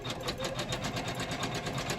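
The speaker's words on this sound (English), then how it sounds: "And now it's just gonna do a satin stitch." A Janome MC500e embroidery machine stitching satin stitch on a towel in a magnetic hoop, a fast, steady mechanical whirring with even rhythmic pulses, close and continuous with no talk.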